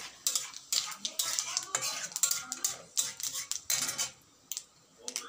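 Panch phoron whole spices hit hot oil in a pan and get stirred, giving bursts of crackling sizzle and metal spoon scrapes against the pan in uneven clusters, close and fairly quiet, with short gaps between.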